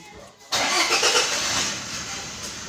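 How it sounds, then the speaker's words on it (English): A Toyota or Lexus car engine cranks and catches at once, then settles into a steady, close, loud idle that holds to the end, with no talk over it. "Let me start the vehicle."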